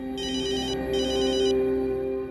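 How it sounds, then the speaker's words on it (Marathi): An electronic telephone ringtone chirps in two rapid, repeated bursts in a home, clear and fairly close, over a steady low background tone, with no talking. "माई माई फोन वाजतोय."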